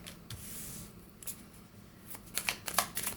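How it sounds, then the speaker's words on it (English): Tarot cards being shuffled by hand, a soft papery riffle at first that builds into several louder, quick flicking bursts near the end, close up with no talking. "I start shuffling"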